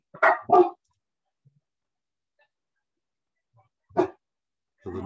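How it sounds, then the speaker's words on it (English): Dogs bark at a postman arriving, with a sharp double bark near the start, another single bark a few seconds later and a final one at the end, separated by near silence. "the noise in the background is the postman has just arrived and my dogs don't like him"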